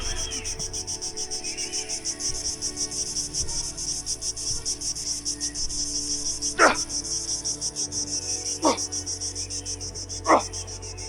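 Crickets chirp in a dense, steady, continuous trill that fills the whole scene, with a few brief louder sweeping sounds cutting in over it.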